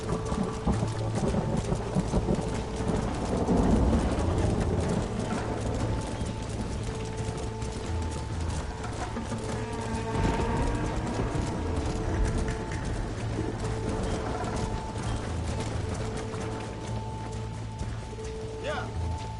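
A horse stampede in Red Dead Redemption, with a steady rumble of many hooves beating under game noise and bursts of loud, excited voices throughout.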